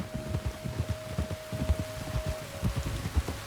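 Rain falls in a Red Dead Redemption game scene as a soft, steady patter with low thudding drops and a faint sustained tone, fairly quiet and without talk.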